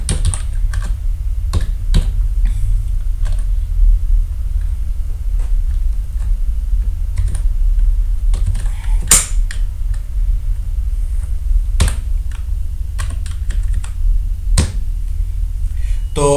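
Close computer keyboard typing while code is entered in Unity, with irregular sharp key clicks scattered over a steady low background hum and no speech.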